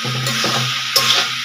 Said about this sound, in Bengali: এখন এটাকে আর একটুখানি কষিয়ে নেব।